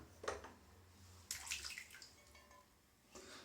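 Water is added to a shaving bowl in short splashing pours and trickles, three brief bursts over quiet room tone, heard close but faint.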